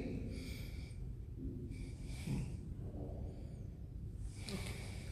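A patient breathing during a medical examination: slow, airy inhales and exhales repeating in a steady rhythm, close and fairly soft, with no talking over them.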